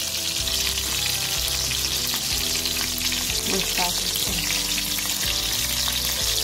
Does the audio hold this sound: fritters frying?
yes